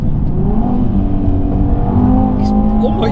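A stage 2 tuned Mk3 Audi TT RS pulls hard uphill, its engine note rising in a steady climbing drone heard from inside the car, with a brief voice exclamation near the end.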